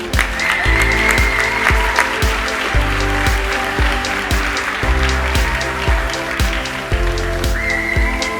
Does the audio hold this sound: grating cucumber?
no